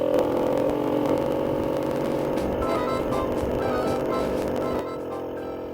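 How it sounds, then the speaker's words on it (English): A Flextail Evo pump deflates a bike tyre with a steady, loud whirring motor drone that drops abruptly in pitch and level near the end. "So I'm now going to stick it in deflate, so I can take the tyre down myself."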